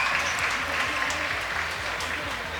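Crowd applauding at a university basketball game between University of the Philippines and Korea University, a steady wash of clapping filling the arena, with a commentator talking over it.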